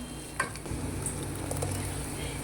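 Onion and tomato for a vegetable kurma sizzle and crackle steadily in a hot pan, with faint scraping of stirring, continuous and close.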